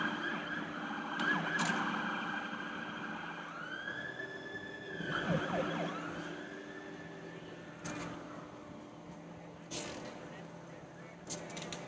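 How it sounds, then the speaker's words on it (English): Emergency vehicle sirens wail outside a city hall during a street protest, rising and falling at a distance beneath crowd noise and voices, with one long swelling sweep in the middle. "if you hear sirens in the background, it's emergency services responding to other things"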